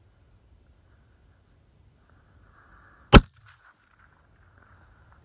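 A single sharp rifle shot cracks out while hunting in an open field, loud and abrupt against a quiet outdoor background, followed by a brief fading echo.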